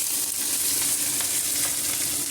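Mustard seeds and cumin crackle in hot oil along with onion, green chilli and curry leaves, making a constant close, even sizzle with no pauses.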